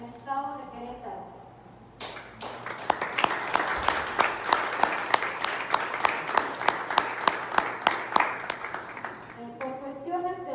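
Audience applause at a comic and graphic novel awards ceremony, a dense burst of many hands clapping that starts abruptly, holds steady and loud for several seconds, then fades as a voice resumes speaking.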